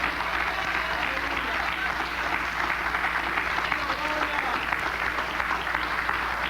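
A church congregation applauds at an evening worship service, a steady dense wash of clapping that holds evenly throughout with voices faintly mixed in.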